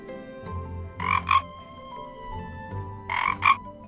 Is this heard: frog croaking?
yes